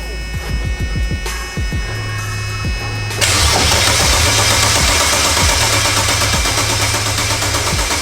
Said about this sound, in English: So we're gonna go ahead and start the car right now.